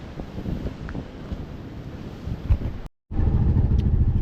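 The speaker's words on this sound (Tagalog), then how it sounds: "Mahangin pa rito, mahangin." Strong wind roaring outdoors during a typhoon, gusty rumble buffeting the microphone continuously, loud and close, with a brief dropout near the end before the blast resumes.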